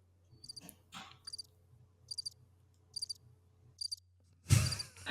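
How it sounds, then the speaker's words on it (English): Soundboard cricket chirping effect played after a knock-knock joke: evenly spaced bursts of bright chirps repeating over a low steady hum, ending in a sudden loud noisy burst. "Oh my gosh, crickets"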